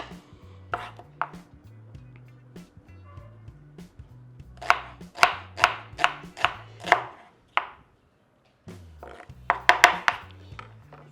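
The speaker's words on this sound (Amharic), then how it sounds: "እንደዚህ በቀጭኑ ከተከተፍኩት፣ እንደዚህ ስላይስ ከተከተፍኩት" A knife chops food into thin slices on a board, sounding as rapid bursts of sharp, close taps in quick rhythmic runs separated by pauses, over faint background music.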